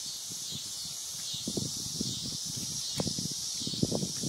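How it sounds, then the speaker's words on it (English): Locusts drone in a steady, dense high-pitched chorus through a warm August summer evening in Kansas, loud and continuous throughout, with faint low rustles and small knocks underneath. "just hearing all the locusts in the background"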